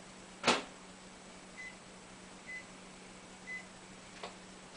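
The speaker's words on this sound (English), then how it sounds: "I microwave it for about 10 seconds to get it liquid" A microwave oven hums quietly and steadily while melting butter, with a sharp click near the start and faint, evenly spaced beeps.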